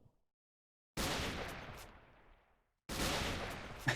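Modded Minecraft turret shooting in two loud sustained volleys, each starting abruptly and fading out, separated by silence, close and dense.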